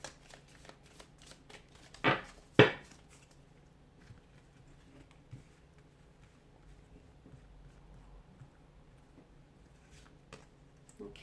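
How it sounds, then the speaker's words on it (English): Tarot cards being shuffled at close range, with two loud riffling bursts early on followed by faint handling rustles and small taps. "give the cards a shuffle"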